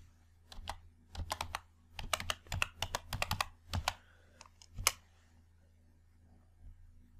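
Computer keyboard keys typed quickly in bursts of irregular clicks while entering an Excel formula, close and fairly quiet, stopping into near silence at the end.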